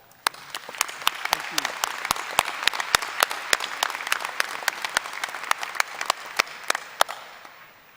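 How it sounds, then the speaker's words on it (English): A commencement audience applauding university staff, sustained crowd clapping with sharp individual claps standing out near and far, holding steady for about seven seconds before tapering away. "I would like for you to join with me in giving them a round of applause"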